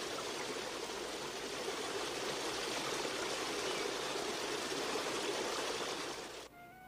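Fresh mountain stream in British Columbia's Kootenays, flowing with a steady, dense rushing wash that stays level throughout and then drops away at the very end.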